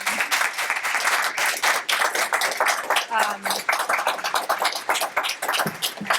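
Sustained applause from a crowd at a release celebration for published essay authors, continuous and fairly loud throughout, with a few brief voice fragments over the clapping.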